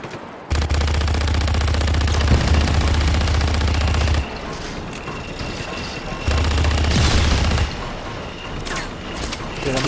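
Loud automatic gunfire and heavy booms in the video game Just Cause 3 come in two sustained bursts separated by a short lull. A voice speaks over the combat.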